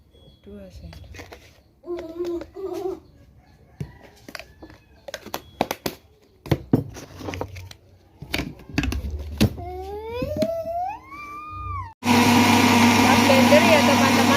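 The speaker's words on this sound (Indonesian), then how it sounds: "Blender ya teman-teman, tadi sudah dikasih es batu, terus kita blender jadi deh." Near the end, a blender roars loudly and steadily as it churns a dragon fruit yogurt shake with ice cubes, following a stretch of talking and kitchen noises.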